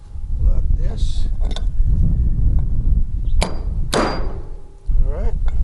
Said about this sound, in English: the claw hammer here.